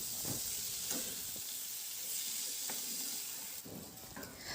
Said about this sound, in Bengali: এবার এই আলুটা দিয়ে কিন্তু মশলাটাকে আরও 1 মিনিট মতো কষিয়ে নিতে হবে।